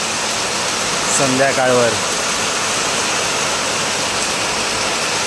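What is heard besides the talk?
rain falling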